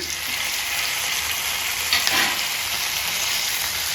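Cut tomatoes and curry leaves hit a hot frying pan for a stuffed ridge gourd curry, giving a loud, steady sizzle with a brief crackling burst in the middle and no talk.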